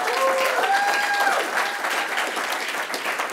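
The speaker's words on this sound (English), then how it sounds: "Actually, let's clap for her." A seated audience at a panel discussion on earthquake risk and resilience in Los Angeles applauds a panelist, steady clapping that thins out toward the end, with faint voices and whistles mixed in.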